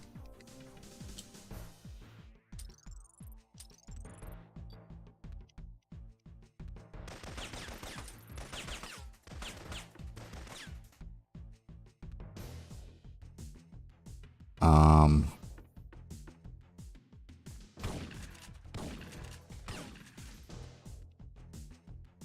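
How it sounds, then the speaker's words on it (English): Shotgun blasts and scattered gunfire from the PS1 game Syphon Filter in a sewer level, sharp reports spaced irregularly over game music and effects, with one loud burst near the middle. "That dude's shooting all the way across here with a fucking shotgun."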